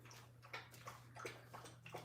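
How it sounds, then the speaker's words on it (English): A dog lapping water from a bowl indoors, a run of soft wet slurping splashes repeating at a quick, uneven rhythm, close by and fairly quiet over a steady low hum. "Listen to how you drink water."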